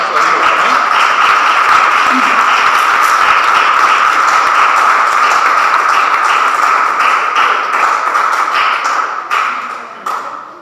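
A church congregation clapping as an offering to God, loud dense applause with sharp individual claps and a ringing tone underneath, sustained then thinning out and fading at the end.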